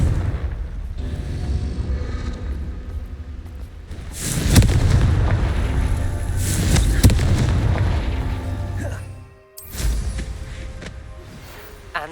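Confringo blasting spell explosions in Hogwarts Legacy on Xbox Series X, a steady rumbling din broken by two loud booming blasts and a sharp burst after a brief drop, close and heavy, with no voices.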